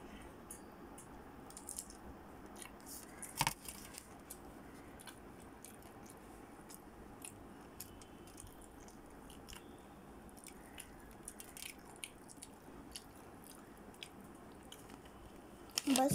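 Someone eats pani puri quickly, with faint, scattered crunches and soft wet chewing over a quiet background and a sharper bite or two standing out.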